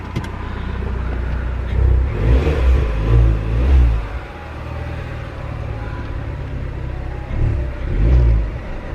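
A car's THP engine, which burns oil, revs and idles up close in a garage, with repeated surges of throttle separated by a steady rumble, ending on another rising rev as it drives out.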